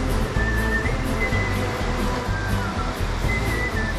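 Sea waves breaking on the beach at Antalya, a steady broadband wash of surf running throughout with a faint thin whistle-like tone drifting over it.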